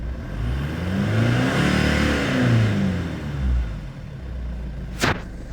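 A stock Jeep Liberty CRD with a 2.8-liter VM Motori diesel revs up and settles back, a loud rising and falling engine drone, followed near the end by a couple of sharp clatters.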